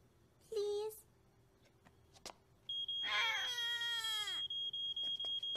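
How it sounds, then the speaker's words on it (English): Smoke alarm in a cartoon fire drill at home, beeping in steady rapid high-pitched pulses for several seconds, preceded by a short cartoon cry-like wail and a drawn-out whining voice. "let's listen to the alarm again to recognize it"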